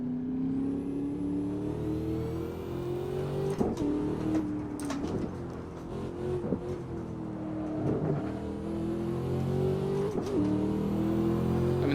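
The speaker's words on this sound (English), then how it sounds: "you can hear the blower. You hear that little whine?" A supercharged car in the Assetto Corsa racing game, its engine droning steadily with a thin blower whine riding on top, revs rising and falling repeatedly with brief gear-change dips, loud and continuous throughout with no talking.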